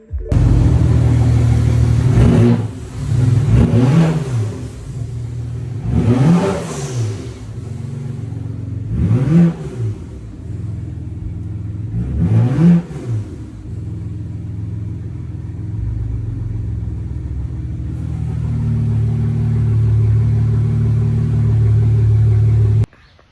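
A car engine, one with uncalibrated fuel injectors, revs in four distinct bursts during a throttle test after an adaptation reset, each rise and fall sharp and loud, then settles into a steady close idle rumble.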